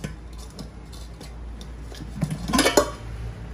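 A pressure cooker pot is handled near a gas stove, giving light metallic clinks and ticks, with a brief louder clatter near the end, under low room noise.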